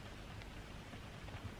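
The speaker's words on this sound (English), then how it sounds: "can you hear the rain?" Rain falls steadily outdoors, a soft, even hiss that stays faint and distant throughout, with no talk over it.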